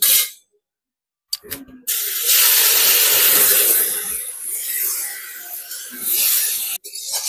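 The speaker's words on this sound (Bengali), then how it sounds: "5 ফোড়নটা ভাজা হয়ে গেছে, এখন দিয়ে দেবো আমি এই" Tomatoes dropped into hot oil tempered with bay leaf, two dried red chillies and five-spice seeds set off a loud, steady hiss and sizzle that swells after a short clatter and runs for several seconds before cutting off.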